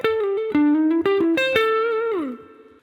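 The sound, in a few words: guitar lick connecting minor pentatonic 5th and 4th positions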